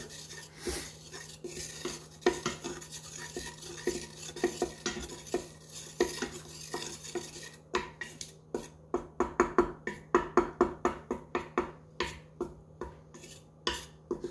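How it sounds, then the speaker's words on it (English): Flour toasting in a pan for mushroom etouffee being stirred, soft scraping that turns into quick rhythmic utensil strokes against the pan, close by over a steady low hum. "let's keep stirring this around"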